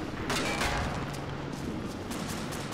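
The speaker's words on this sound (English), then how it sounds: "Ah, but they're firing back." A short, dense exchange of gunfire in Arma 2, several sharp shots cracking over a continuous rumble of battle, with no talking.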